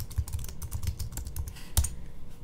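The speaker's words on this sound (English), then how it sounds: "I'm gonna type out the word Tuesday" Typing on a computer keyboard to enter a word in a design program, a quiet run of rapid, irregular key clicks with one sharper keystroke near the end.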